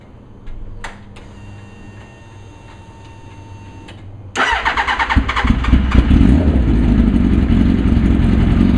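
A Suzuki Hayabusa motorcycle engine cranks and fires up, then settles into a loud, steady idle after a few seconds of quieter mechanical ticking.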